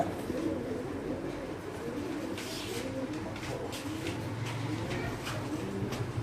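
Sirazi pigeons coo softly and repeatedly at close range, overlapping low throaty calls with some rustling and faint background noise.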